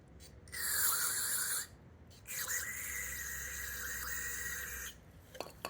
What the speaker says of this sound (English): Scrub the brush. Scrub top and bottom.